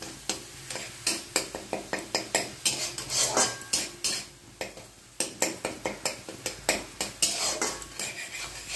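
Pabda catfish is stirred in a pan with salt, turmeric and Kashmiri chilli powder, a spoon scraping and clinking against the metal in a quick, steady rhythm over a faint sizzle.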